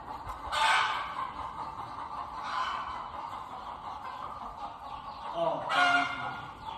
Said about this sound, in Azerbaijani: Fikir verin, hər tərəf toyuqdur